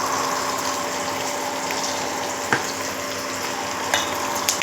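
Spices and aromatics for sambar sizzle in a hot pan with a continuous frying hiss, broken by a few soft clinks of stirring.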